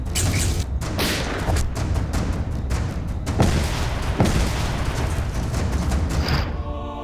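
Rapid gunfire in a Hindi TV drama scene, a dense barrage of loud booms and sharp cracks with reverberant thuds, continuous and close before cutting off near the end.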